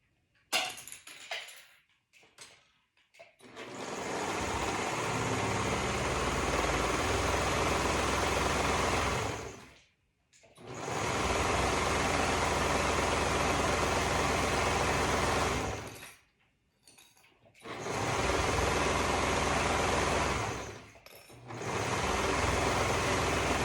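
Sewing machine stitching a dolman top seam from the cuff down the side, running in three long steady bursts of rapid whirring separated by brief pauses and small handling clicks.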